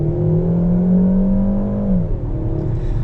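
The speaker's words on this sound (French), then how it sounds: "on est sur un bruit de moteur qui est plus présent, qui est amplifié, avec des passages de rapport qui sont un peu plus agressifs" A Peugeot 5008 GT with a 180 hp engine and EAT8 automatic gearbox accelerates in sport mode, a loud steady drone inside the cabin that climbs, then drops as a gear changes near the end.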